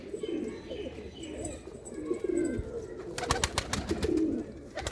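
Pigeons kept on a rooftop loft coo in low, continuous rolling calls close by, mixed with a few sharper chirps and a burst of rapid clicks or wing flutter near the end.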